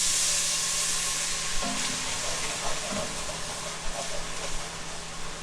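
White wine hits a hot pan of braised chicken with a steady, close sizzle and hiss, broken by a few soft clinks and stirring bumps.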